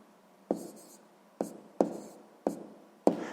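A pen scratches on paper while working a sixth-grade maths exercise, with five quick, distinct strokes spaced irregularly and close to the microphone in a quiet room.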